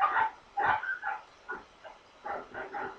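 A dog barks in a series of short, sharp yips and woofs, about eight bursts in uneven rhythm, fairly faint and somewhat distant behind a live stream.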